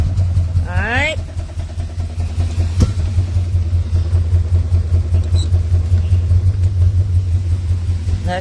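A 1970 Dodge Charger engine runs loud and close with a steady low rumbling idle, broken early by a brief whistling rise and a sharp click.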